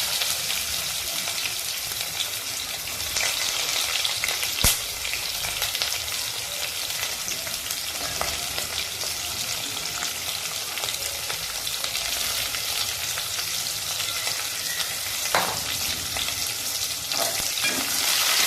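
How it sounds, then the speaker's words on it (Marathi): Onion sautéing in a pan, a dense, continuous sizzle like steady rain with occasional faint clinks of the spatula, close and even throughout. "कांदा चांगला परतून घेऊ"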